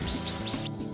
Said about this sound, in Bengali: সঙ্গে চলেছে পাখিদের কিচিরমিচির